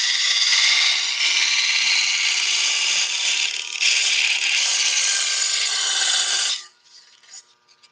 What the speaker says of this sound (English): And you're sanding away plastic